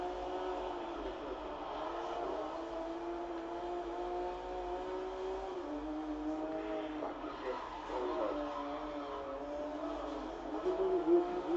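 Porsche race car engines in GRID 2019 whine and rev steadily, pitch rising and falling through gear changes, with talking throughout.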